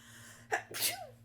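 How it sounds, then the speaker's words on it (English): A single close sneeze: a quick sharp intake followed by a bursting, breathy exhale, with faint background hum. "I gotta sneeze."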